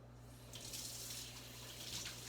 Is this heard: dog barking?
no